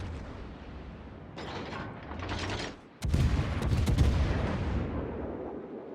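Warship main-gun salvos in the naval combat game World of Warships, fired at a Fiji cruiser: rumbling broadband booms that build, dip, then strike hard with a sharp heavy blast and a long roaring tail, loud and close, with no talk.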